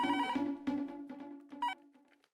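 A household telephone rings with a few bright, repeated electronic tone bursts that ring out clearly on their own and then fade away.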